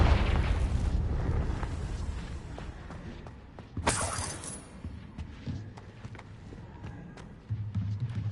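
A Confringo spell blasts in Slytherin Wizard 2: a sharp shattering explosion cracks out in the middle of a rumbling battle din, followed by scattered thuds and a low hum.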